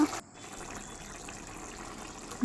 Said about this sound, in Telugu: నీళ్ళు పోసుకొని ఉడికినివ్వాలి